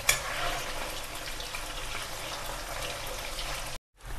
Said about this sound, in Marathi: आता हे पनीर पूर्ण तळलेलं आहे